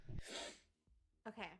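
A single close, sharp sneeze at the start during a tabletop role-playing session, followed by a short breath and a brief spoken word.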